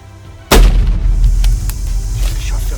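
A single loud rifle shot cracks out on an African hunt, a sharp close blast followed by a rumbling decay and faint movement.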